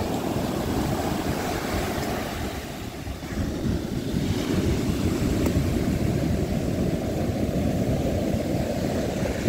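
Steady roar of ocean surf close by at Baler, Aurora, waves breaking continuously with heavy wind buffeting the microphone throughout.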